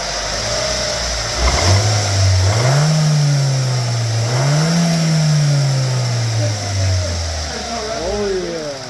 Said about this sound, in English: Maybe I'll give her some revs here.